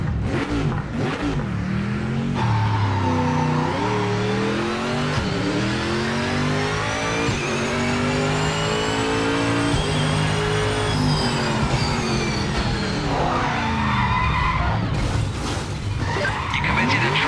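A Corvette C7 GTE race car in the Project Motor Racing sim revs hard through the gears, engine pitch climbing and dropping repeatedly, with tire squeal and skids in between, loud and close throughout.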